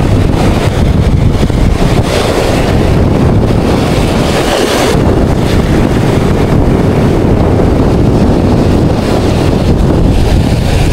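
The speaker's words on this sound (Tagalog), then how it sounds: "Malaki na yung alon." Large sea waves at rising high tide churn and break on a shoreline in Borongan City, Eastern Samar, Philippines, beneath heavy, continuous wind gusts hitting the microphone, a loud outdoor wash throughout.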